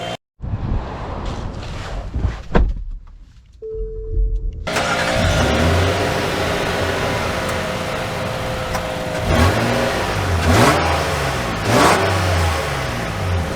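2024 Nissan Pathfinder Rock Creek: a few interior clicks and the starter crank, then the engine catches and idles before the SUV pulls away, its engine rising and shifting through gears under steady road and wind noise.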